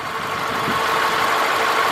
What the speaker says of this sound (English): we got a nice idle right here going on and everything